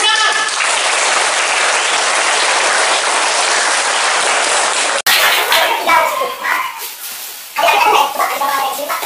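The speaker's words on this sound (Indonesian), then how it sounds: "Tepuk tangan." A crowd claps loudly and steadily for several seconds at a National Storytelling Day event, then the applause breaks off and children's voices and chatter take over.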